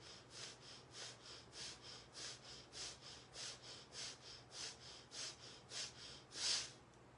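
Slow, regular breaths drawn in through the nose during a calm exercise, about fifteen soft airy rushes in a steady rhythm, close and quiet, with one slightly louder breath near the end.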